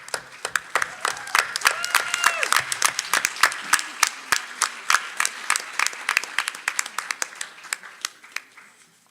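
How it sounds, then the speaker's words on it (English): Applause from a small audience at a school committee meeting honouring a girls' sports team, individual claps distinct and fairly close, fading out near the end, with voices faintly underneath. "let's give them a big hand and a big round of applause"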